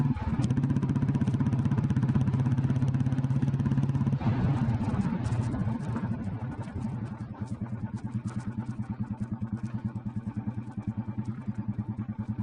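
An old Royal Enfield Bullet motorcycle rides at speed, close to 60, its loud exhaust thumping in a steady, continuous rhythm throughout. The beat is slightly rougher partway through.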